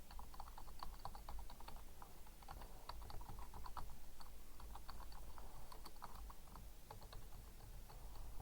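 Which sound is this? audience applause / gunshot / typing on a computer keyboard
typing on a computer keyboard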